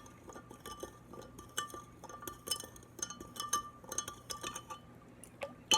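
Soup spoon stirring sugar into an apple vinegar mixture in a glass vessel, light rapid clinks and scrapes repeating unevenly, close and quiet.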